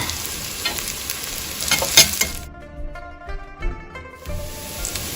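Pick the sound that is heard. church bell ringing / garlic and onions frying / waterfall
garlic and onions frying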